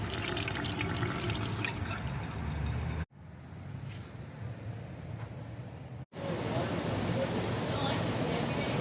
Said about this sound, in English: It's flowing all the time. Let's get some fresh water